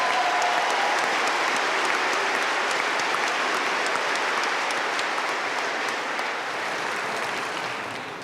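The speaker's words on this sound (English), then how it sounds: "please join me in one more round of applause for all those people who made it possible for our graduates to be" A large commencement crowd at a 2019 undergraduate graduation applauds the people who supported the graduates, a dense, steady wash of clapping that holds loud throughout and eases slightly near the end.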